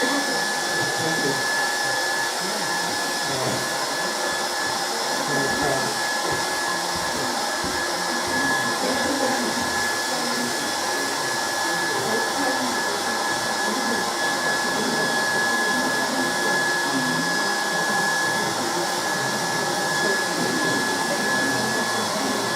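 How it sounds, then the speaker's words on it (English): A hairdryer blows steadily over a painting in progress, a loud continuous whirring airflow with a constant high whine, running unbroken throughout. "I think now I might chance a little bit of the hairdryer on this area here."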